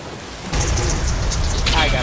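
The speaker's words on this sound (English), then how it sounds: "Hang on, there's going to be loud oceans here." Loud ocean waves wash in a continuous, broad roar in an Unreal Engine video game, swelling after a brief quieter start, with faint game sounds on top.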